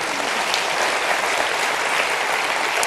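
An audience at a positive-thinking talk for a medical group gives steady, full applause, a thick continuous patter of many hands clapping at a close, even level.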